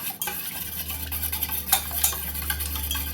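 Two eggs beaten in a bowl with a utensil, rapid rhythmic clicking and whisking strokes against the bowl, close and steady for a few seconds.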